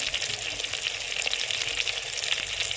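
Browned chicken sizzles steadily in a pan for a gobi chicken dish, a dense, even hiss of frying oil with no pauses.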